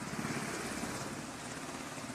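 A helicopter hovering over a ship during a casualty evacuation, its steady rotor chop and engine roar loud and continuous throughout, with no voices.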